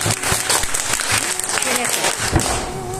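A burst of clapping from a small group of people, steady throughout with voices mixed in.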